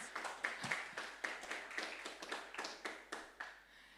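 A few people at a Bitcoin conference stage in Cape Town clap in a sparse, steady rhythm, the separate claps soft and somewhat distant, with no talking.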